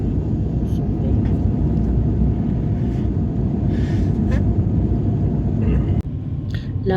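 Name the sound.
airplane landing at Addis Ababa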